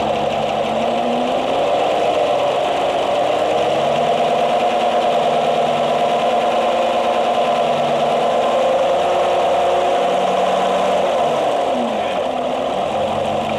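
A Cadillac Escalade engine runs steadily and loudly up close, its tone rising and falling slightly in a couple of light revs over a constant droning hum.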